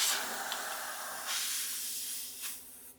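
Compressed air hisses steadily into a tubeless Eurogrip Trailhound tyre on a Royal Enfield Interceptor 650 motorcycle during a service, with brief louder bursts of rushing air.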